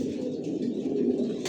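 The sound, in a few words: pigeons cooing in racer pigeon loft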